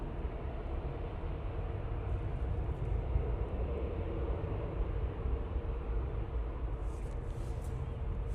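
Broad steady jet roar of an airliner departing Manchester Airport, a continuous loud rumble that holds level throughout with no voices.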